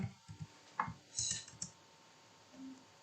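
Several light, quiet key clicks from a computer keyboard as a command is typed into a command prompt, scattered and close with small pauses between them.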